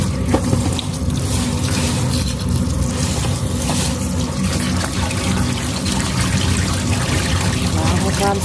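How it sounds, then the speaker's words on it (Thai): Boiled mushrooms being rinsed under a running kitchen tap, with a steady, close splashing stream of water that continues unbroken throughout. "แล้วเราก็ล้างทำความสะอาดอีกครั้งนะคะ"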